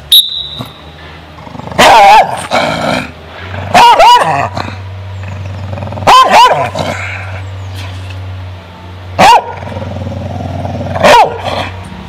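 An aggressive Bulldog-type crossbreed dog barks and growls in loud, close bursts, several sharp barks spaced a couple of seconds apart over a low continuous rumbling growl.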